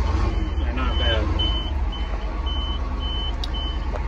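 A 1984 GMC diesel dump truck engine idles with a low, steady rumble, while faint repeated beeps sound over it throughout.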